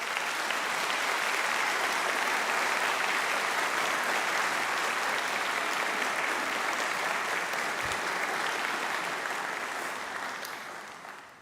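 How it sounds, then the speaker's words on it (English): Graduates at a veterinary college graduation ceremony applaud their families in a large hall. The clapping is loud and sustained, a dense wash of hands that holds steady, then fades out near the end. "please turn and give them the biggest round of applause you possibly can"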